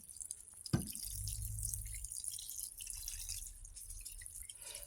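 Water from a Brita jug pours into a crock pot for chicken broth, starting with a sharp splash and then a soft, steady trickle that fades after a couple of seconds. The sound is faint and quiet.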